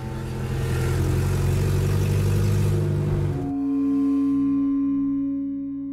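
A car engine starts after a starter motor fault, with a rough cranking clatter that gives way to a steady, loud, close idle hum.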